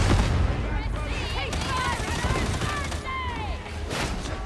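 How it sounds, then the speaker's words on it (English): A grenade blasts amid heavy gunfire in the Warhammer 40,000: Darktide video game. Loud, sharp bursts rise out of dense, continuous shooting, while voices shout over the chaotic battle. "Have a grenade, heretics!"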